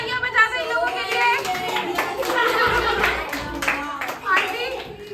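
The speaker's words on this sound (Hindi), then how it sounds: "एक बार तालियां बजा दो इन लोगों के लिए" A small group, including children, claps hands briefly and unevenly indoors, mixed with overlapping chatter and voices close by.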